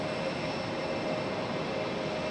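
Passenger jet at Raleigh Durham airport, a continuous broad engine roar with a faint steady whine, heard from a distance and holding even in loudness throughout, no talk.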